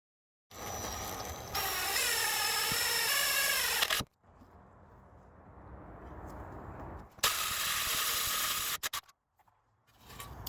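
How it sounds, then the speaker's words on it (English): A power drill whines loudly, boring and enlarging holes in the steel frame of a Jeep YJ, in two sustained bursts separated by a quieter lull, then stopping with a few short clicks. "I'm going to use that existing hole, just make it bigger, and then this hole right beside it. And so I'm going to drill these out now"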